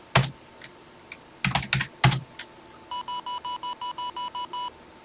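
A run of about nine evenly spaced electronic beeps from a Texas Instruments TI-99/4A home computer, steady and identical in pitch, following a few soft keyboard clicks.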